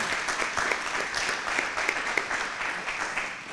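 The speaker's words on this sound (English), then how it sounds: "let's give a round of applause to our panel" An audience claps for a panel at a community presentation, with dense, sustained applause running evenly throughout and no talk on top.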